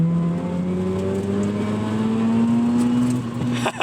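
A 1990 Mazda RX-7 FC's rotary engine revs up steadily to its redline under hard acceleration, giving a loud, rising, buzzy drone heard from inside the car.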